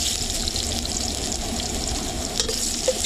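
Garlic frying in hot cooking oil in a home kitchen, a steady close sizzle and crackle with faint stirring scrapes throughout, no talking.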